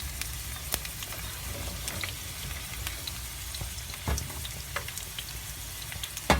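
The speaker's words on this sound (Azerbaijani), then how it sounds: "Kartofları yağda oyuz-buyuz çevirdik." Potatoes fry in hot oil in a pan with a steady, soft sizzle and crackle, and a few sharper pops and clicks now and then, close by and fairly quiet.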